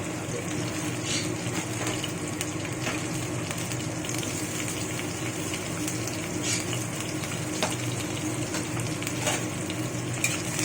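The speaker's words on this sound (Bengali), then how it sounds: "এখন একটু নাড়াচাড়া করে হালকা ভেজে নেব।" Garlic and green chilli with black cumin seeds sizzle in hot oil for palak dal, a close, constant crackling fry with scattered light clicks of stirring throughout.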